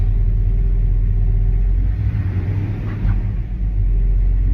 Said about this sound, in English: Fires up really easy and idles very well.